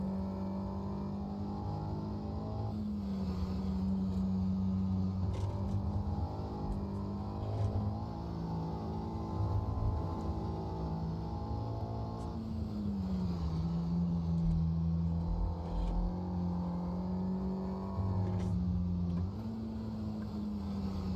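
A Mini's engine revving in the Automobilista 2 racing game, a steady buzzing drone whose pitch rises and falls as the throttle is worked and the gears change, continuous and close.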